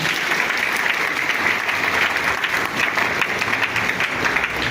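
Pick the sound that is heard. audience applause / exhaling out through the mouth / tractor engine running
audience applause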